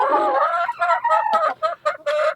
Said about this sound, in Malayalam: ഇപ്പൊ കോഴിയെല്ലാം നല്ല ഉഷാറായിട്ട് തന്നെ വരുന്നു.